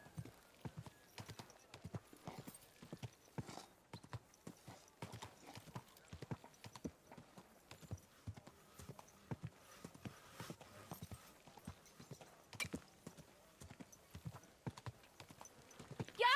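Steady clip-clop of horse hooves walking at an even pace in a video game, fairly close, continuing throughout with a faint snort near the end.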